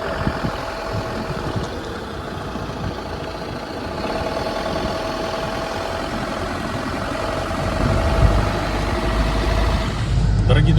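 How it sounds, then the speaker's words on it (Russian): A vehicle drives along a paved road through farm fields in Spain, its engine rumbling steadily from inside the cabin and swelling louder near the end while people talk over it. "Вот покажи, Дим, это вот все мы в полях едем."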